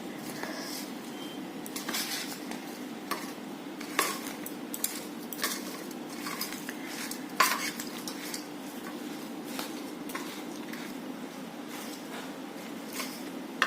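A spoon stirs a jackfruit pickle mixture with raw mango in a pot, giving repeated light metallic clinks and scrapes at an uneven rhythm over a steady low hum, fairly quiet and without talk.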